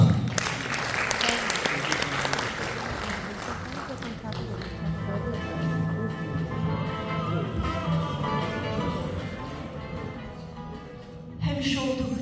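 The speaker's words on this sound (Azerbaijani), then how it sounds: "Alqışlarınızla" An audience at a jubilee evening for a performer's 50th birthday claps in a dense, sustained burst that slowly thins out before a brief fresh surge at the end.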